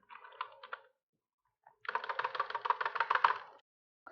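Code is typed on a computer keyboard: a short cluster of key taps, a pause, then a denser close run of quick clicking keystrokes, faint and alone.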